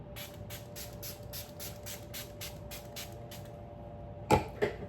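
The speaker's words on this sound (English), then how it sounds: "So one last spritz." A makeup setting spray is spritzed in a quick series of about ten short, even hissing pumps close to the mic, followed by a couple of louder clicks or taps at the end.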